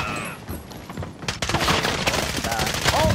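Rapid gunfire crackles in a shooter video game, faint at first and then a loud continuous burst of shots from about halfway through, under excited talk.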